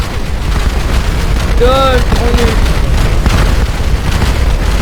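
Hundreds of TNT blocks detonate in a Minecraft world, a loud, continuous rumbling roar of overlapping blasts that never lets up, with a brief tonal vocal sound near the middle.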